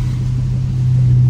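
A Dodge Challenger RT driving at night in the rain, a deep steady engine drone with a low rumble that grows slightly louder toward the end.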